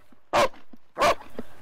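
A working rescue dog at a dog training centre barks twice, two loud close sharp barks about half a second apart, with faint small sounds between them.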